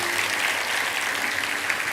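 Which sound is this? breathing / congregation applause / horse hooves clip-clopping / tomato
congregation applause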